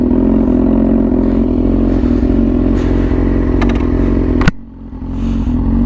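A Yamaha R6 sport bike with a very loud aftermarket exhaust, a steady, close, heavy engine drone that dips sharply for a moment with a brief clatter, then picks back up.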